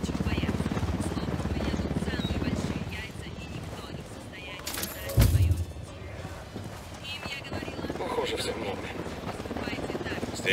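A helicopter in Ghost Recon Wildlands thrums with a steady rotor chop throughout, with a sharp impact midway and voices talking over it.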